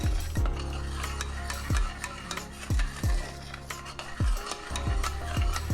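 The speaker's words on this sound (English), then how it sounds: "let's go ahead and give it a quick mix. Make sure it don't stick on it." A spoon stirs a thick mango and sugar jam mixture in a pot, with repeated close scraping strokes and knocks against the metal at an uneven rhythm, nothing else heard.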